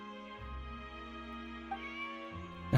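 A cat meows in Genshin Impact's Fontaine region, a couple of soft cries over a steady bed of game music, with a sharper, louder call right at the end.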